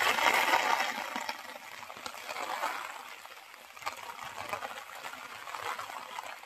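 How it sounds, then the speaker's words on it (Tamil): Steady, dense rush of heavy storm rain pouring down, a continuous broadband hiss with watery trickling, no voices. "சக்க மழை பெஞ்சிட்டு இருக்கு."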